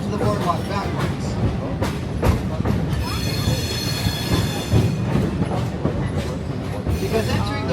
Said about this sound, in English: we're going to push this train into the boardwalk backwards